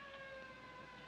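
A faint, steady siren tone holds at a constant pitch without rising or falling, distant and unbroken.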